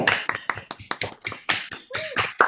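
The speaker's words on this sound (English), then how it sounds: "join me in giving a round of applause to" Colleagues on a video call at a postgraduate brain sciences graduation ceremony clap, producing a sparse, uneven series of close sharp hand claps and taps from a small number of people rather than a full crowd.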